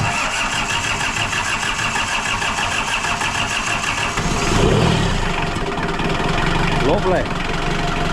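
A car engine cranks and catches after a coolant system repair at a used car dealer, settling into a steady idle with a brief rise around the start, while people talk nearby.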